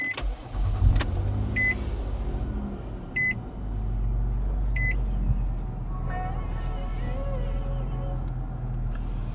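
A 2017 Nissan Murano with a 3.5-liter V6 is push-button started, with chimes and beeps before the engine cranks and settles into a steady idle up close.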